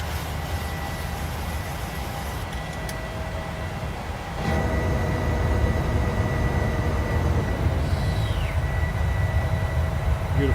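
An airliner departs Memphis in Microsoft Flight Simulator, with a steady roar of jet engines that swells louder partway through and holds a constant heavy rumble.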